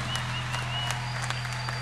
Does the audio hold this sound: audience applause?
yes